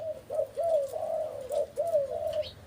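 A red-billed mountain dove coos in a steady series of low, hollow notes, close and clear, repeating about six times with short gaps between them.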